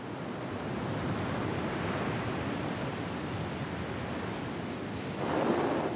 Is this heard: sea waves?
yes